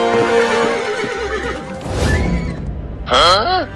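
A cartoon horse lets out a loud, quavering whinny near the end of a desi village comedy sketch. Animated voices talk over the earlier part.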